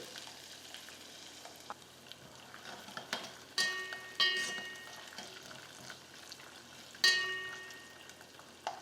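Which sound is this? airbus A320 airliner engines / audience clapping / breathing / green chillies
green chillies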